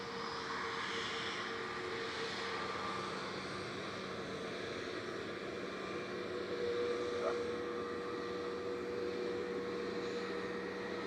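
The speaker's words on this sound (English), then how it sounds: "EasyJet 6728 to Lisbon going next. OE ISG A321 Neo." A distant easyJet Airbus A321neo departing Manchester Airport for Lisbon hums as a faint, steady engine drone with a thin tonal whine over low rumble.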